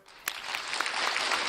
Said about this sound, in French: j'ai envie à cet instant de vous applaudir et que vous vous applaudissiez vous-même.